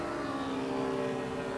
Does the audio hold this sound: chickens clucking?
no